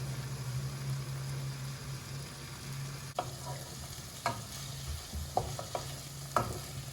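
Ginger garlic paste fries in a pan with green chillies and cumin for paneer butter masala, giving a steady close sizzle broken by four sharp stirring scrapes and knocks in the second half.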